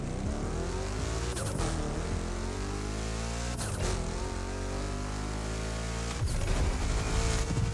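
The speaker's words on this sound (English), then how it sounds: "It's such a raspy V8 too." A Chevrolet 3100 big-block V8 in the driving game The Crew Motorfest revs hard and rasps without a break, its loud raw engine note rising and falling through repeated gear changes.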